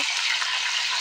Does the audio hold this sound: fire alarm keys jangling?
no